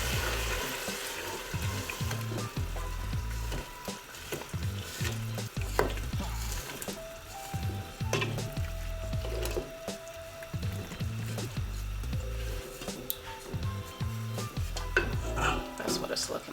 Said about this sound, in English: First, I'm gonna stir it.